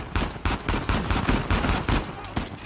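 Rapid bursts of gunfire from the video game Uncharted 4 repeat close and loud at a steady, fast rhythm, about a dozen sharp shots in quick succession with no talking over them.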